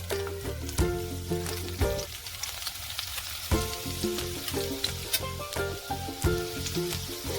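Garlic frying in oil in a pan for vegetable soup, a steady close sizzle with occasional stirring clatter running throughout.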